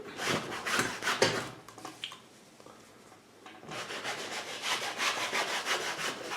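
Paint is rubbed off a painting in two stretches of brisk, scratchy back-and-forth strokes, close and moderately loud, separated by a quiet pause of about two seconds.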